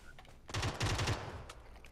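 Gunfire in PUBG: Battlegrounds comes as a quick burst of several rapid shots, followed by a couple of fainter isolated cracks.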